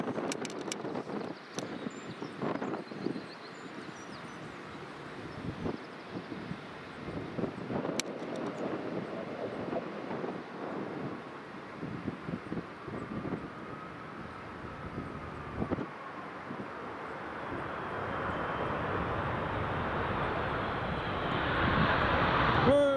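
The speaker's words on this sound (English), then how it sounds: "Ryanair 737 MAX." A Ryanair Boeing 737 MAX arriving at Edinburgh Airport, its jet engine roar building steadily and growing louder toward the end over gusty wind noise on the microphone.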